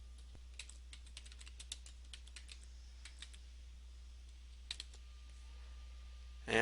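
Keys on a computer keyboard are tapped in short irregular bursts while text is entered in Microsoft Word, the clicks crisp and close, a pause midway and a quiet steady hum behind.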